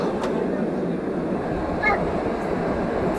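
Steady rumbling and rolling noise inside a passenger train travelling from Poznań toward Bielsko, running without air conditioning, with a brief faint squeal and a few soft clinks over the constant low drone; voices murmur faintly in the carriage.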